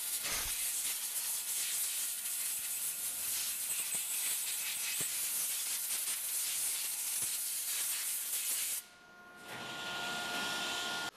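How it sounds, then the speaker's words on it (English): Compressed air hisses steadily as it blasts solvent and dirt off remanufactured Bosch diesel injector components for a Hyster forklift 8.3L engine, a loud continuous rush that cuts off briefly near the end, then resumes. "blow everything back off, get the solvent and dirt back off of these components"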